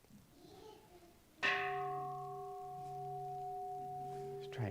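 A single bell is struck at a wedding ceremony, a sudden clear strike followed by a long ringing tone that fades slowly, alone in a quiet room.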